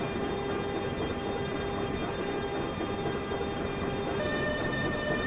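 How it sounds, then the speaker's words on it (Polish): BR 187 TRAXX 3 electric locomotive pulling away with a train of wagons in Train Simulator Classic, a steady loud rumble with sustained tonal motor whine rising slightly near the end, no talk. "Od razu można zobaczyć, jak są zrobione dźwięki w tej lokomotywie w Train Simulator Classic"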